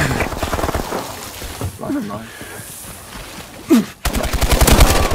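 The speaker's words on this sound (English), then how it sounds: "Guys, he just ran right into the gunfire." Call of Duty Advanced Warfare gunfire: rapid machine-gun bursts open the moment, fade under talking, then return as a loud, fast rattle at the end.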